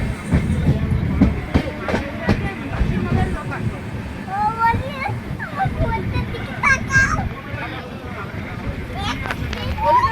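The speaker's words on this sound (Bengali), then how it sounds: "ট্রেন আমাদের চলে এসছে" The Saraighat Express rumbles along near New Cooch Behar with continuous rolling clatter and rattling, heard from inside the carriage as adults and someone talk throughout.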